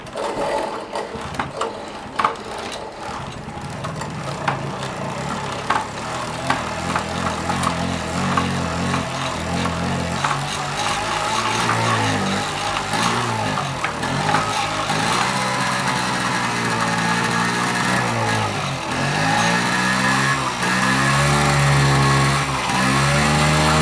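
A Honda Hobbit PA50 II moped engine starts up and buzzes at a high pitch, rising and falling through repeated revs. The small two-stroke-style whine stays close and continuous throughout.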